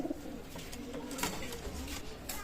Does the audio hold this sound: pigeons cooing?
yes